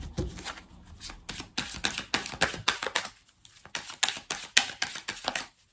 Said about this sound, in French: Et on va faire un tirage en 6 cartes.